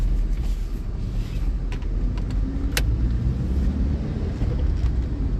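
A car on the move, recorded from inside while driving: a loud, steady low road and engine rumble with faint rattles, no talking.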